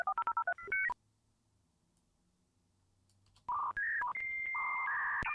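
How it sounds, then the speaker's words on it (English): Dial-up modem on a home computer dials out with a quick run of touch-tone beeps, pauses in near silence, then starts loud warbling handshake tones. "With my first home computer came this dial-up modem connecting to the internet."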